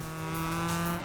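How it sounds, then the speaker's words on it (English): Ford RS200 rally car engine in the racing game DiRT 2, a steady raspy drone held at a constant pitch with a faint tire-noise wash, loud and alone for about a second. "the RS200 here sounds probably more raspy than it should be"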